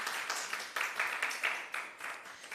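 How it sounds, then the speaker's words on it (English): Conference audience applauding a speaker at a health research event, a fairly faint, dense patter of clapping from a crowd heard over a couple of seconds with slight surges. "Let's give another round of applause for Prof. Chapman-Edwards."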